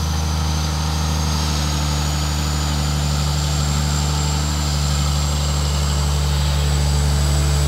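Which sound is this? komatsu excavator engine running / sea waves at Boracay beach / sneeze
komatsu excavator engine running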